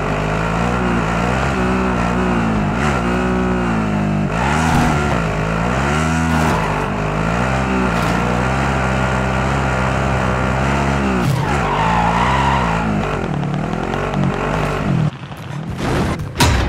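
A car in Call of Duty Warzone on Rebirth Island roars loudly up close, its engine rising and falling through gear changes with tire squeals and skids toward the end.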